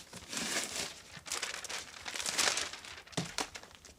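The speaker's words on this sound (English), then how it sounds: "we're going to go ahead and remove the packing tape" Packing tape peeled and crinkled away from the fringe of an area rug, a run of close, dry crackling and tearing bursts with brief pauses, no talking.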